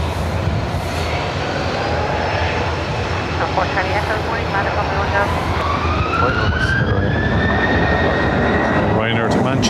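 Ryanair jet departing Dublin Airport for Manchester, a loud continuous engine roar with a rising whine that climbs steadily, heard from a distance and filling the whole scene.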